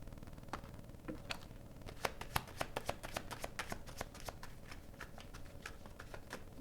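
Tarot cards being shuffled by hand in a continuous run of crisp riffling snaps and flicks, close and fairly quiet, with no talking.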